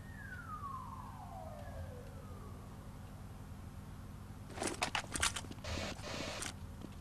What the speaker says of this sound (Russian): Если вы слышите сирену за окном у меня.